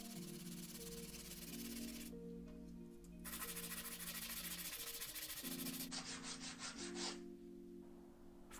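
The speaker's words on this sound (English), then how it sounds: "I've got some 180 grit sandpaper. I need to give them a good sanding down," Wooden hooks cut from an old step ladder get sanded by hand with 180 grit sandpaper, close, continuous rasping strokes in long sustained passes with brief pauses between, no voices.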